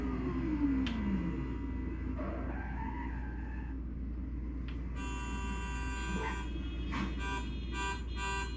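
Electronic tones repeat near an ATM in a Roblox game, with a low steady hum underneath and bursts of stacked, buzzy beeps that come in short pulses toward the end.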